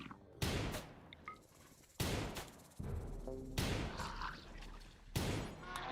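Repeated gunfire from colonists shooting in a tribal survival colony game, with loud sharp volleys at irregular intervals and a steady low rumble filling the gaps.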